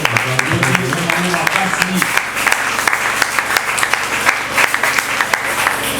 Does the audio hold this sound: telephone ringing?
no